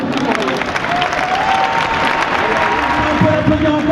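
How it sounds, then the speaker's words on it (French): A crowd at a French political rally for Benoît Hamon applauds in a loud, steady wash of clapping, with some cheering and voices mixed in throughout. "On peut l'applaudir encore plus fort"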